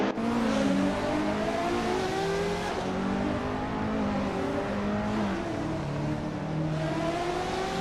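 Race cars driven by AI in a racing video game, a loud, continuous engine whine with several overlapping pitches rising and falling as the cars accelerate and shift.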